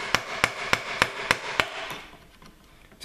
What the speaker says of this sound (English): I'm now going to use the chisel blade the other way round